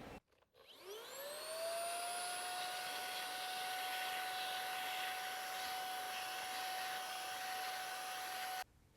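Aspiron handheld vacuum cleaning a computer keyboard, starting up with a rising whine that settles into a steady loud high-pitched drone for about eight seconds before cutting off.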